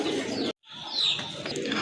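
Large pigeons coo in a low, throaty rhythm, close by and fairly clear, with a brief silent gap partway through and faint chirps above.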